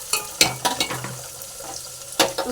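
Ingredients being stirred in hot oil in a pot while cooking a dal dish, giving a few scraping, clattering spoon strokes over a soft, steady sizzle, close and fairly quiet.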